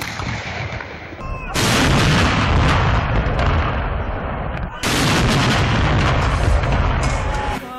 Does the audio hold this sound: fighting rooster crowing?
no